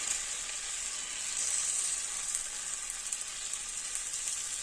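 Kodo millet roti batter fries on a hot pan, giving a steady, even sizzle with fine crackling throughout, close and unbroken with no voices.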